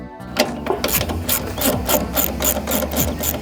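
A ratchet wrench clicks as it backs a bolt out of a California Trimmer Catalyst reel mower, several bursts of quick metallic pawl ticks close by, with no talking.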